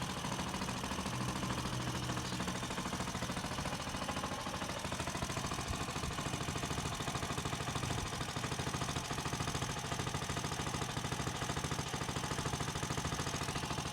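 A small engine runs steadily at a constant speed for the whole stretch, a continuous close mechanical drone with no voices over it.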